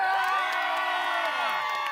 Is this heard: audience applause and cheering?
yes